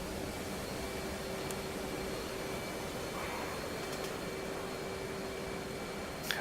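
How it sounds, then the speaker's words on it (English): Jet engine afterburner roaring in the DCS World flight simulator, a loud steady broadband rush with a constant hum that holds without letup throughout. "See my afterburner kicking off."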